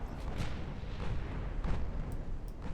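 A torpedo hit explodes against a warship in the naval combat game Ultimate Admiral: Dreadnoughts, giving a loud, sustained low rumbling blast with a few sharper cracks over the top and no speech.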